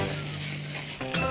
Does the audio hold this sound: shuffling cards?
no